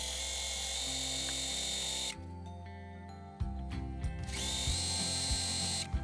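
A sewing machine runs steadily, stitching a straight seam with a 1.5 cm allowance on a handmade tunic. The motor whirs continuously, pauses briefly and then resumes, close by with no talking.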